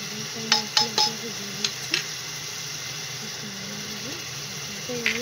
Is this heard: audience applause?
no